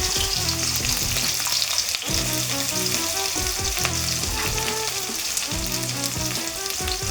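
Onions hiss and sizzle loudly in hot oil in a home kitchen pan for beef intestine curry, a dense continuous frying sound with some stirring, close up and without talk.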